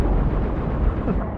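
Continuous heavy gunfire in Halo: Reach, loud, dense and booming, with rapid overlapping shots and blasts filling the whole short stretch.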